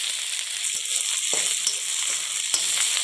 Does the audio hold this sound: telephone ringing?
no